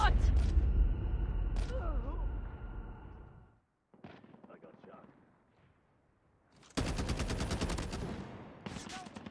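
Call of Duty Mobile gunfire: bursts of rapid automatic shots, loud and dense at the start, then a quieter lull with scattered sounds, followed by another heavy sustained burst near the end.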